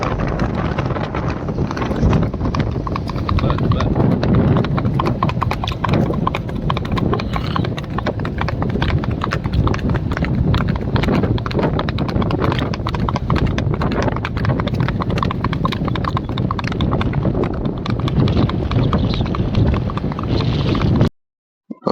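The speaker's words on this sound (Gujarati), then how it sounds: "અમારા મિસ્ટર આહિરભાઈ ઘોડીએ ચડે છે" A mare carrying a rider moves in the smooth revaal ambling gait, her hooves beating a quick, even clip-clop that runs steadily and close for about twenty seconds, with wind buffeting the microphone.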